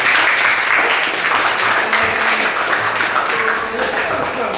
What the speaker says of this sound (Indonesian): tepuk tangan jawabannya